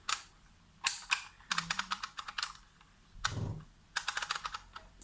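A Dymo embossing label maker is squeezed to press letters, giving close, sharp mechanical clicks in quick clustered bursts separated by short pauses, with no voices.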